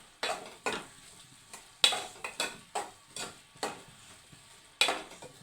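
Onion palya frying in oil in a pan, stirred in a steady rhythm of about a dozen scraping strokes over a low, continuous sizzle, close and fairly soft.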